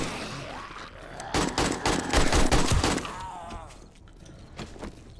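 Rapid bursts of automatic gunfire from guns in the video game 7 Days To Die during a zombie horde fight, a loud, dense volley of shots lasting a couple of seconds, then fading into quieter clatter.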